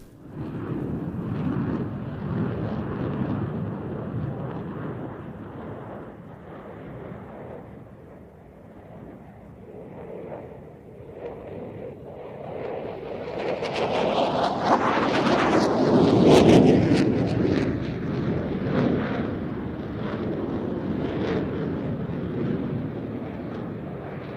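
An F-16 and a JF-17 fly a side-by-side Cuban 8 at Airshow Turkey in Izmir in 2011, their jet engines rumbling at a distance before swelling into a loud roaring pass and then fading back to a steady roar.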